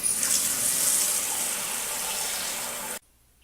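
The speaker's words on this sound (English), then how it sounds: "putting water into the tank." Water rushes steadily into a toilet tank through a newly fitted Fluidmaster fill valve after the supply valve is reopened, a loud continuous hiss and gush that cuts off abruptly near the end.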